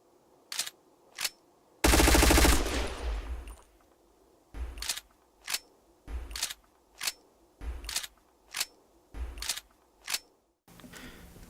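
An MP7A1 submachine gun in the shooter game Black Squad is reloaded with a series of sharp, evenly spaced mechanical clicks and clacks, broken by one loud burst of automatic fire; quiet in between.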